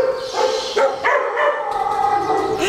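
Dogs at a dog shelter on Lanzarote bark, yip and howl together in a noisy, overlapping chorus, several animals calling close by at once with no talk.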